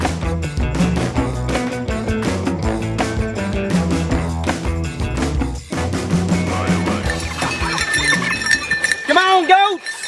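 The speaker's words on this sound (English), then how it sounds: "Come on, goats!" Goats on a newly built farm on raw land bleat near the close, with jangling bells and a busy musical backdrop running throughout.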